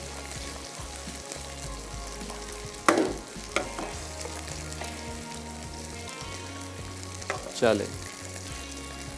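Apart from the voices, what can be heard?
stir-frying pasta with onion and tomato in a pan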